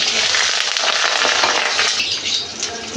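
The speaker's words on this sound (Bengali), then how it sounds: "এবার আলুগুলো আমি ভেজে নেব।" Potatoes frying in hot oil in a pan, after fish was fried in the same oil, giving a loud, continuous close-up sizzle with crackling bursts and no talk.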